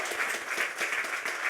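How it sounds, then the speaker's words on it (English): Brief, fairly faint applause from a small audience follows a debate speech, with dense, even clapping throughout. "I know I'm not meant to clap."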